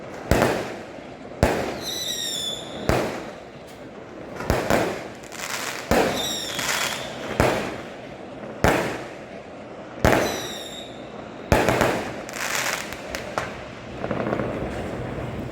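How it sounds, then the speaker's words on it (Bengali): Fireworks bursting at an Eid celebration in Malaysia, a run of loud sharp bangs spaced every second or two, some with whistling, crackling tails, continuing throughout. "অনেক সুন্দর বাজি ফোটাইছে, অনেক সুন্দর।"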